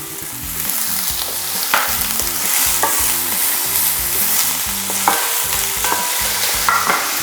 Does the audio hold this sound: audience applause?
no